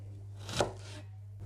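One knife chop through a red onion lands on a cutting board, close and soft, over a faint steady hum.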